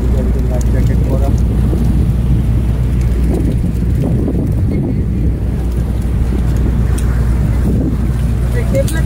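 A luxury cruise boat at sea off Al Jubail, Saudi Arabia, heard as a loud, constant rumble of wind and engine close to the microphone, with voices faintly underneath.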